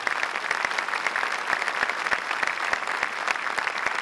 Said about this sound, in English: how about a round of applause for Staff Sergeant Chris Venditti and all of our Hellcat buglers